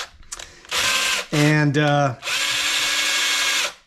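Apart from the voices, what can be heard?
power drill boring through bolts with hardened drill bits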